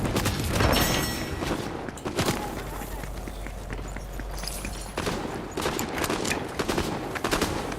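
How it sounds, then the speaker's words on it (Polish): Video game gunfire rattles in dense bursts almost nonstop, loud and close, with bursts of automatic fire and scattered single shots mixed with footsteps and someone talking over the action. "Ej, ktoś we mnie strzela."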